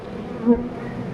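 A steady, close buzzing of many honeybees in a hive with young bees emerging from brood, a dense continuous drone with no voices.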